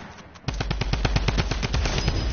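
Rapid automatic gunfire from a Fortnite match bursts in after a short lead-in, a fast, evenly spaced string of loud shots rattling on without pause to the end.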